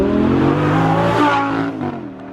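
A Lamborghini-styled go-kart drift car with a custom tube chassis revs loudly up close, the engine note climbing and holding before dropping away as the throttle closes.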